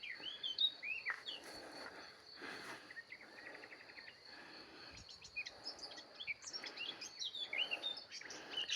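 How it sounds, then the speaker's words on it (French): A flock of around twenty birds sings from bushes in the early evening, with many overlapping chirps and trills, some close and bright, along with a steady insect-like buzz beneath. "Il y a au moins une vingtaine d'oiseaux."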